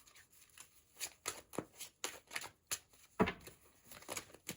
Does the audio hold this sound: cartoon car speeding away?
no